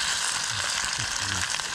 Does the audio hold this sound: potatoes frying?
yes